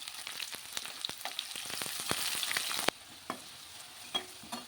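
Sliced onions with green chillies sizzle and crackle in a pan for a tomato curry, a steady frying hiss broken by sharp stirring scrapes and taps, growing quieter partway through.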